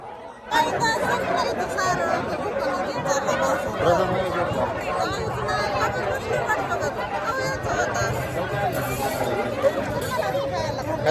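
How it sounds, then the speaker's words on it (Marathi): A large crowd of devotees gathered at a village Mahadev temple fair, with a dense continuous babble of many voices, chatter and occasional laughter all around. "तुम्ही बघा किती मोठी गर्दी झालेली आहे"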